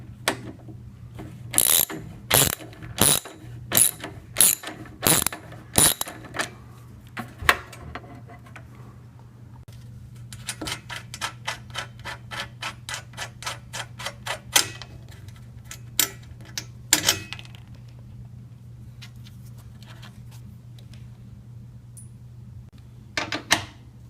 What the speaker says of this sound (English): Next, just loosen the bolts holding the unit in place.